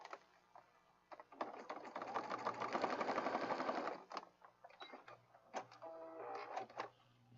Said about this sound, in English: So I'm going to just stitch on that really fast.